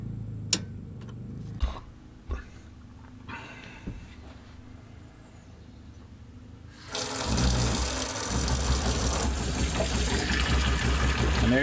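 A few sharp clicks and knocks, then a tap in an RV with a tankless hot water heater suddenly opens and hot water gushes steadily into a sink, loud and continuous.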